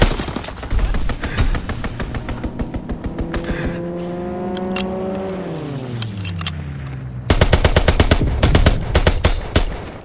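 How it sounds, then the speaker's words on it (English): Aircraft strafing run in a Call of Duty match: dense rapid bursts of machine-gun fire, then a plane's engine whines past with a falling pitch before heavy automatic fire resumes, loud and close. "Strafing run inbound."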